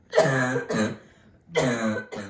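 Two rough bursts of coughing or throat clearing, close and fairly loud, separated by a short pause, with no talking.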